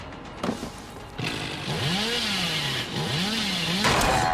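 Hillbilly's chainsaw from the game Dead by Daylight revs up with a whining, wavering engine pitch that rises and dips, loud and sustained after a brief start-up sputter.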